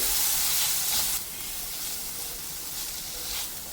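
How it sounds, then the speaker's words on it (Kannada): Ginger garlic paste fries in a pan with a loud, close, continuous hissing sizzle that eases slightly after the first second and keeps going without talk. "ಜಿಂಜರ್ ಗಾರ್ಲಿಕ್ ಪೇಸ್ಟ್ನ ಹಸಿ ವಾಸನೆ ಹೋಗೋ ತನಕ ಇದು ಫ್ರೈ ಆಗಲಿ"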